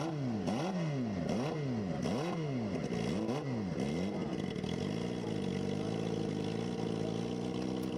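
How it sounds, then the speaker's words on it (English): Racing motorcycle launching off the start line at the El Mirage dry lake, engine revving in rising, repeated gear-shift sweeps before settling into a steady high drone as it pulls away. "All right, we're going to send a bike."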